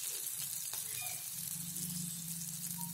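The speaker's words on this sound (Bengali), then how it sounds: "পাঁচফোড়ন দিয়ে দিলাম, কাঁচা লঙ্কা দিয়ে দিচ্ছি, একটু ভাজা ভাজা করব" Panch phoron whole spices and green chillies sizzle steadily in hot oil while cooking a bata fish curry, a close, continuous crackling fry with no talk.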